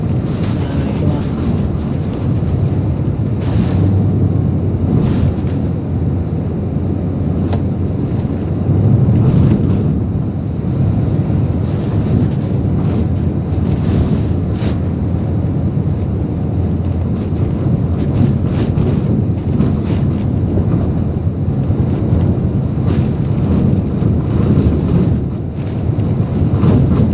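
Strong wind from Typhoon Odette, recorded inside or near a truck, a loud continuous roaring rush with gusting swells and buffeting throughout, a few faint knocks, with little or no talk.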